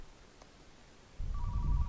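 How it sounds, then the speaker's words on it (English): A phone rings in the video game Car Mechanic Simulator 2015, a steady electronic tone starting partway through over a low hum, close and moderately loud. "Oh, phone's ringing."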